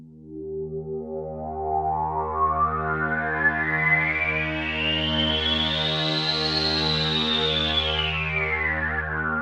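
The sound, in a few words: Jupiter-8 synthesizer preset with dispersion and pan spread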